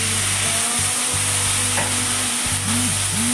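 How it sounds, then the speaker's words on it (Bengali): Spice masala stirring and frying in a pan after water has been added, with a loud continuous sizzle and spoon scrapes that come in short repeated strokes. "তারপর ভালো করে নেড়ে চেড়ে নিয়ে কষিয়ে নিতে হবে মশলাটা"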